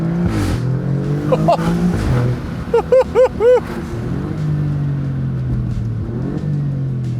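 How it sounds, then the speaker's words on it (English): A 2024 Alfa Romeo Giulia Quadrifoglio accelerates hard, its exhaust rising in pitch through the gears with a rumbling drone and a quick burst of sharp pops and crackles partway through, loud and close. "I'd put a louder exhaust on this because I want it to sound like this in the car."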